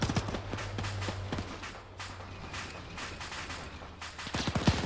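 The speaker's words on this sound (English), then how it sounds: "They brought the M2 up. Excuse me, the MG42 up." An MG42 machine gun fires during a winter battle in Arma 3, sounding as rapid, sharp bursts of gunfire at mid distance, with scattered shots, a low background hum, and another loud burst at the end.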